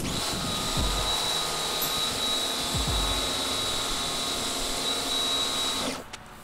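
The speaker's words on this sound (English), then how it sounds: "Take that power washer and clean the wheels off." A power washer sprays car wheels in a steady, loud hiss with a faint whine, a few low thumps early on, then the spray cuts off abruptly near the end.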